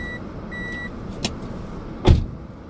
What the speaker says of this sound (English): why does it make a noise? Oh. It says the car doors are open.